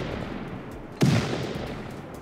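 A single heavy C4 blast rips through a shop front in Rust, a sudden loud thump with a short low rumble, standing out over quieter background noise.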